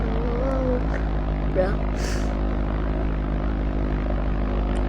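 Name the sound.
airplane engine in an airplane simulator video game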